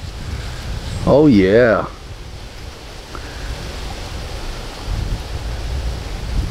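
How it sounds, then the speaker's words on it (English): Wind blowing through leaves beside a lake on a trail, heard as a steady, broad outdoor rush with gusty swells, and a person briefly speaks early on. "Even the wind blowing through the leaves."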